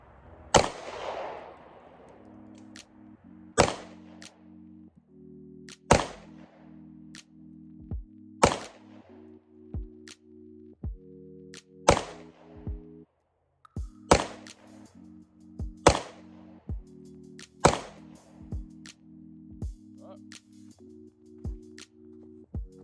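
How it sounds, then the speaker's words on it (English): Sharp, loud pistol shots from a Smith & Wesson M&P 2.0 10mm at an outdoor range, about a dozen reports fired at a steady, unhurried pace, each with a short echoing tail over a humming background. "Let's shoot it some more."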